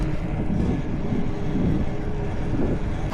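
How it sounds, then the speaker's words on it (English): A low, continuous rumble of a train rolling past nearby, steady and fairly loud, with faint rhythmic clatter and no voices. "The train."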